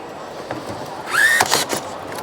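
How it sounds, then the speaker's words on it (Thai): A Makita automatic rebar-tying tool fires once, a short close motor whir with a rising squeal as it wraps and twists the wire, then stops. "ง่ายและเร็วมากๆนะครับสำหรับตัวเครื่องผูกลวดตัวนี้"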